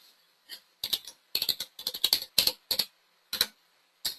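Fingers typing on a computer keyboard at close range, crisp irregular key clicks in short bursts separated by brief pauses, with nothing else audible.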